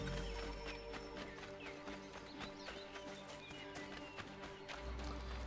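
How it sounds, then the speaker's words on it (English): Horse galloping in the video game Assassin's Creed 3, a steady rapid clip-clop of hooves running throughout over a dense game soundscape of music and ambient effects. "oh, we're doing a horse"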